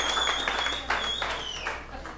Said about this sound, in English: One more round of applause for Eugene Kinney for putting this together,